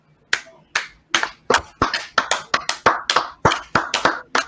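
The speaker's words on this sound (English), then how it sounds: "Let's give a round of applause for Jay." A group of people claps together in a round of applause for someone on a sports talk show, with sharp overlapping claps that build to a steady burst over several seconds.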